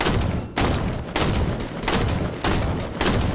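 Rapid bursts of gunfire in a video game, loud and close, with several dense volleys separated by brief gaps in quick succession.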